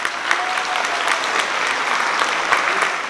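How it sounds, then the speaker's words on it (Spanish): An audience at a talk on Palestine in Mexico applauds a visiting academic speaker, dense sustained clapping from a crowd filling the room evenly for about three seconds. "para el cual un fuerte aplauso, compañeros."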